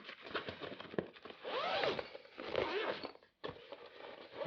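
A zipper runs open along a soft carry bag for a camera slider and ball head, several close, scratchy pulls with brief pauses and a short silent gap before a final stretch.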